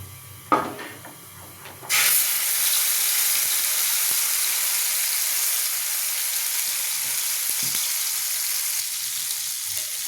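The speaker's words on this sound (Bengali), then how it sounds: "এই পেস্টটা দিয়ে এবার আস্তে আস্তে সিম অবস্থাতেই এটাকে নাড়তে থাকবে" A paste of cashew, poppy seed, two kinds of mustard and chilli hits hot oil after a brief clink, bursting into a loud, steady sizzle that hisses on, stirred slowly over a low flame.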